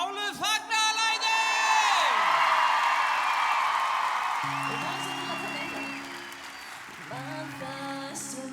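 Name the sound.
crowd cheering wildly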